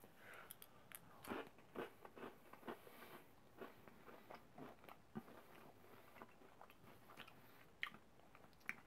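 Someone chews crunchy dark chocolate M&M candies close to the microphone, making a string of soft, irregular crunches and bites at a faint level.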